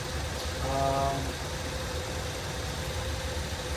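A Ford Escape idling steadily, a low, even engine hum close by that holds throughout, with a brief tonal whine near the start.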